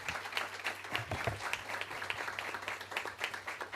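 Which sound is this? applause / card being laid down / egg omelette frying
applause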